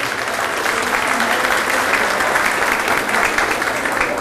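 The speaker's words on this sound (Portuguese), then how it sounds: "Vamos aplaudi-la novamente" A dense wash of applause from a full hall at a formal civic ceremony session in Vitória, Brazil, loud and continuous without a break.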